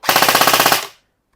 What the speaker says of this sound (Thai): ลองฟังเสียงก่อนว่าแบตโอเคไหม เซฟนะครับ เซมิ แล้วก็ฟูลออโต้นะครับ